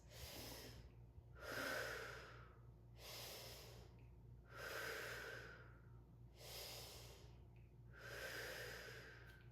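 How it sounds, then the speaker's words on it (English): Deep, slow breathing during a lower-body fascia exercise, with several long, close inhales and exhales in an even rhythm over a low background hum. "3 big breaths"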